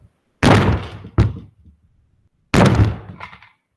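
A softball-sized lump of clay is slammed down flat onto a table with two heavy dull thuds and a short knock, then slammed again a moment later, close and loud with quiet between hits.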